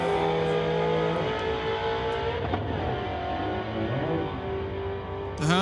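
A Ford Mustang and a Hyundai race at a street-legal drag event. Engines drone loudly with rising revs and shifting tones, and a sharp whine swells up at the very end with no voices over it.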